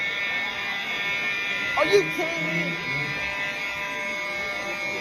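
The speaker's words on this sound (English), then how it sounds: "Is that another fire alarm?" A school fire alarm sounds as a steady, loud electronic buzz with high tones throughout, while people talk over it.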